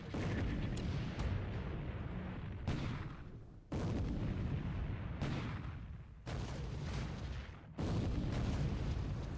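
Naval gunfire and shell explosions in the War in the Pacific video game, loud booming salvos arriving in repeated heavy bursts with brief quieter gaps between them.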